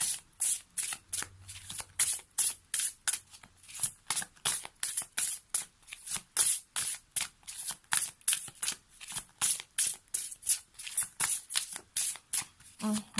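Oracle cards for a tarot-style reading are shuffled in quick, regular riffling bursts, close and crisp, repeating steadily for several seconds with a quiet voice briefly underneath.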